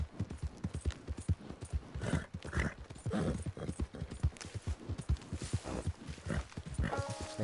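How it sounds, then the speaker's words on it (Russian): Arabian horse hooves clip-clopping in a video game, a quick, steady walking rhythm of close, crisp hoof beats that continues throughout, with a short chime near the end. "Видели моего арабского коня?"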